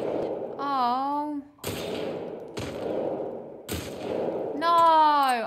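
Gunshots in The Last of Us Part 2 during Ellie's Day 3: three or four sharp, loud reports spaced about a second apart, separated by stretches of someone talking.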